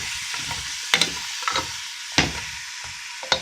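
Chopped vegetables for chicken soup with rice sauté in a pan with a steady bright sizzle, and several sharp scraping stirs of a utensil break through it at irregular intervals; no one speaks.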